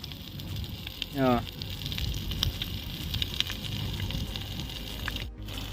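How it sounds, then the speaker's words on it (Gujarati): A fire roars and crackles in a steady, close blaze in a village, with a brief whooshing flare early on and a voice speaking faintly underneath. "જો ક્યાં ઠેર ઉડીને જાય એમ જો ભડકો"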